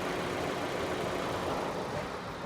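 Steady low hum of a 2022 Geely Emgrand four-cylinder engine idling, smooth and even at moderate distance with no talking.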